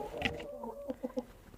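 Young hens at the nest clucking, a few soft low clucks in a short rhythmic series, close and fairly quiet against faint background noise.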